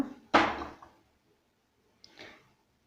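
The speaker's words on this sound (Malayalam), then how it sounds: "ഒരു പാത്രം വയ്ക്കുക." A cooking pot is set down on a kitchen stove with a sharp clunk and a brief metallic ring. A softer scrape or knock follows about two seconds later, then quiet.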